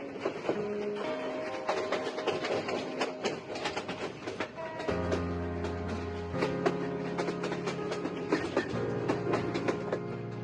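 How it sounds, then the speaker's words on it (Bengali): Agnibina Express pulling into Mymensingh railway station on the Dhaka–Mymensingh line: a continuous loud rumble of rolling wagons with sustained tonal squeals and horn-like notes shifting pitch throughout, no voices. "আমরা এই মুহূর্তে প্রবেশ করতেছি ময়মনসিংহ রেলওয়ে স্টেশনে"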